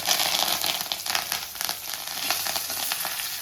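Curry leaves and cumin crackle and sizzle steadily in hot tempering oil with asafoetida for a Tamil mor kuzhambu, a dense close-up hiss with small pops and no talking.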